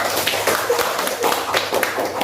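Classroom students applauding for a presenting group, a dense, steady patter of many hands clapping together at close range for a couple of seconds.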